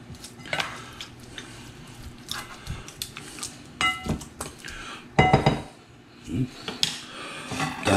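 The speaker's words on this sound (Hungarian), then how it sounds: "Ugye beletesszük a húsit." Pork ribs go into a bowl to marinate amid clattering dishes and clinking utensils, with scattered knocks and scrapes of crockery close by and no voices.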